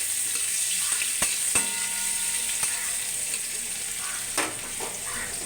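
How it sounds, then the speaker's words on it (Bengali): Onion frying with radhuni seeds in white oil, a steady close sizzle broken by sharp clicks and scrapes of a spatula against the pan, with no talk. "প্রথমে সাদা তেলে দিয়ে দিচ্ছি রাঁধুনি ফোড়ন, এরপরে দিয়ে দিচ্ছি পেঁয়াজটা একটু হালকা"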